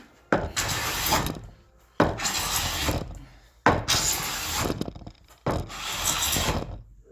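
A cheap hand scraper pulled over wooden joints to strip dried glue, four long rasping strokes, each starting with a sharp bite and fading out, with short pauses between, close and loud.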